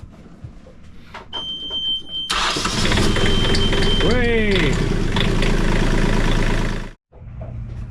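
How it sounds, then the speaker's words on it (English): A sailboat engine cranks and catches, then runs at a loud steady idle; a high electronic beep sounds before it starts, and a voice briefly speaks. "Just tested the engine and the alternator, and it works so good."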